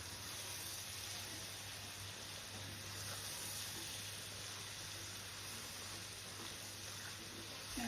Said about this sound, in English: So now I'm going to put in my cut up tomatoes, chopped up tomatoes. Give it a lekker stir.